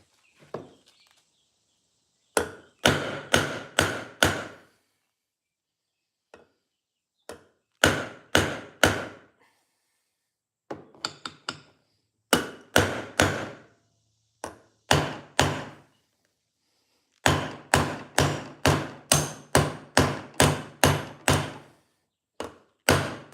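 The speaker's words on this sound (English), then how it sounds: "Let's bring the hammer down, as they say." Hammer blows on a sickle bar mower part under repair, struck in repeated bursts of sharp metallic whacks, several quick hits per group with short pauses between, loud and close.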